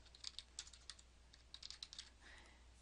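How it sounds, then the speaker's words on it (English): Typing on a computer keyboard, a quick irregular run of soft close key clicks over a faint steady hum, no voices. "And then you just press enter on your keyboard"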